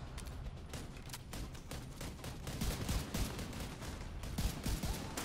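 Rapid, sustained gunfire fills a boss fight against the Iron Horse in a tower video game, with dense overlapping shots and bursts hammering nonstop at close range for the whole stretch, no voices.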